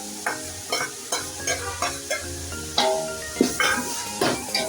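Crushed garlic and green chili sauté in a pan for a beef fry, sizzling steadily while a spoon scrapes and stirs in regular strokes, close and clear with no talking.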